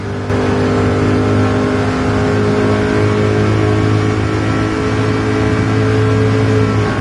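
A V8 race car engine in Gran Turismo 7 revs loud and close, holding a steady, buzzing mechanical drone for the whole stretch with no voices over it.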